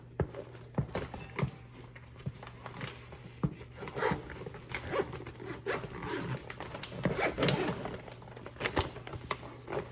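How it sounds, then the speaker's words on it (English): A zipper on a bag is pulled in repeated short rasping strokes, close and crisp, with clicks and fabric rustling between the pulls and no talk. "I'm gonna zip the bottom if I don't need all that space"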